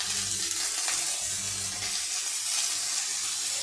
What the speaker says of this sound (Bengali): আমি এখন আলুগুলো দিয়ে দেবো, দিয়ে ভেজে নেবো একসঙ্গে।